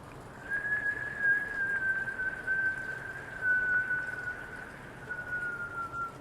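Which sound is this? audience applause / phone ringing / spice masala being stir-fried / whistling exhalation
whistling exhalation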